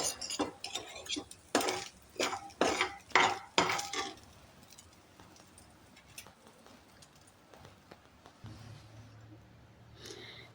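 Fried chicken is lifted out of the pan and set onto a plate, with a quick run of close metal-on-plate clinks and clatters that then fade into a quieter background.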